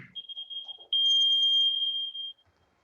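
A one-minute training timer sounds with a shrill, steady electronic tone, first a short note and then a longer sustained beep lasting over a second, loud and close, before stopping.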